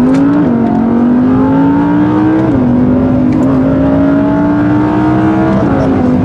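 A naturally aspirated Audi R8 V10 engine screams continuously, pitch climbing steadily with brief dips at gear changes, loud and close throughout.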